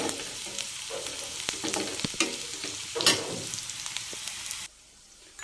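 Onions fry in a pan for puliyogare tamarind rice, a steady close sizzle with scraping stir strokes and a few louder clatters, cutting off abruptly near the end.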